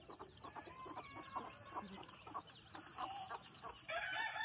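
Hens cluck and chirp around a coop with a clutch of chicks that hatched the day before, busy overlapping calls at moderate distance, with higher peeping toward the end.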